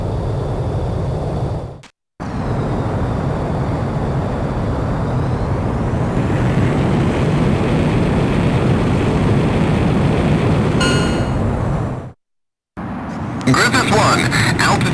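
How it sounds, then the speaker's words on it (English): Jet fighter engine roaring steadily through a takeoff roll in the combat flight game Ace Combat X, a loud continuous rumble broken by two brief dropouts, with a rising whine near the end. "You are cleared for takeoff."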